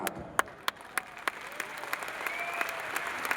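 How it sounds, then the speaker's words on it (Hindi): A large audience at an event in a Delhi stadium claps steadily, with sharp individual claps standing out over a dense, sustained wash of applause. "और इन लोगों की तालियों से इस बात का एहसास होता है कि आपके लिए ये आत्मा से, दिल से ताली मार रहे हैं"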